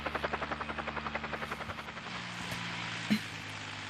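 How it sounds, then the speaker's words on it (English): A helicopter lands in the Resident Evil game ending, with rhythmic rotor chopping that is strong at first, then fades into a steady engine whine, followed by one short thump near the end. "But first we have to wait 30 minutes for that chopper to land."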